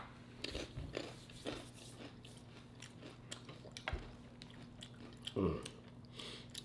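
Close, quiet chewing and biting on food, with soft crunches and moist squishes in an irregular rhythm and a murmured voice now and then.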